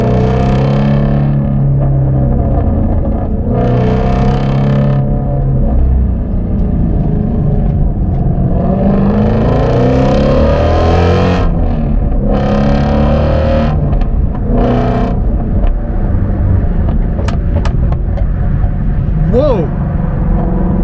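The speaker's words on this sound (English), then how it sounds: "I have never heard it backfire like that." A Shelby GT350 engine roars and revs loudly and continuously, with sharp exhaust backfire pops and crackles breaking through.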